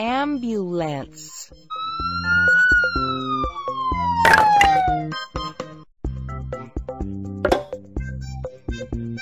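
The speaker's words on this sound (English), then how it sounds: "Ambulance." A wailing electronic ambulance siren in a kids' car puzzle game sweeps up and down amid bright synthetic game music and beeps, the siren rising and falling prominently before the tune continues.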